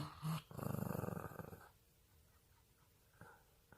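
A small Maltese dog gives a close, low, rumbling growl lasting about a second, followed by quiet breathing and a faint snuffle.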